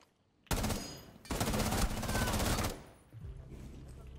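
Rapid automatic gunfire in the Rainbow Six Siege video game, two loud sustained bursts close together, split by a short gap, then fading into quieter game noise.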